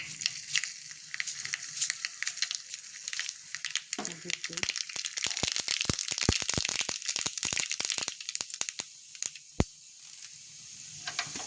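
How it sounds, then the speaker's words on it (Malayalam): Mustard seeds splutter in two spoons of hot oil in a pan for chutney, a steady sizzle broken by many loud, sharp pops that cluster in the middle and then thin out. "ചൂടായി കടുകിട്ട് കൊടുക്കാം."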